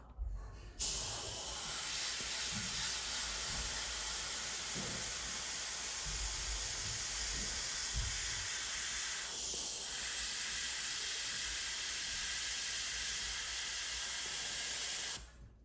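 Airbrush spraying clear coat over a natural metal finish on a 1/32 Italeri F-104 model kit gives a steady, close hiss that runs unbroken for about fifteen seconds and stops abruptly.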